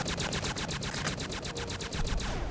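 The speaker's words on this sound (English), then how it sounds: "You guys getting shot at." Rapid gunfire from Fallout: New Vegas in hardcore mode, a steady run of sharp regularly spaced shots for over two seconds at moderate loudness, with no voices.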